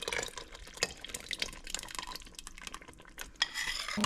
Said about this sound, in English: Continuously mix this.